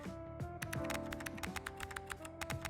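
Fast, close-up computer keyboard typing, a quick patter of crisp key clicks in irregular bursts over a soft musical backing.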